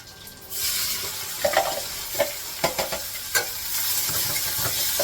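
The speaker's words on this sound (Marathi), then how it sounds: "आता कांदा चांगला परतून घ्यायचा आहे." Onions sautéing in a pan for paneer bhurji, a steady loud sizzle starting after a quiet moment, with several close scraping stirs of a spatula against the pan partway through; no voices.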